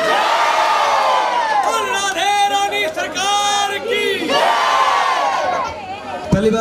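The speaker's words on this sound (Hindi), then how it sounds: "अब जोर से जयकारे लगाएंगे।" A crowd at a live Sai bhajan evening in Delhi shouts loud devotional jaikara chants together, rising and falling in unison over several seconds.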